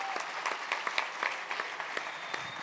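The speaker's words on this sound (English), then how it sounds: "Please give a round of applause to Shlomi Rosenberg" Light, scattered applause from an audience at a live siyum event at BellWorks, fairly quiet and distant, with individual claps audible throughout.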